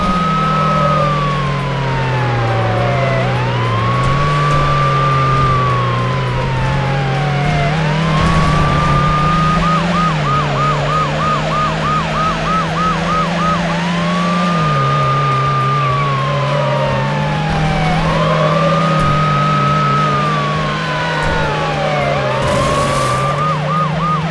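Police sirens wail in repeating rising and falling sweeps over a steady car engine drone during a pursuit of a light blue Lotus Elise in the racing game Need for Speed Hot Pursuit 2, loud and continuous with no talk.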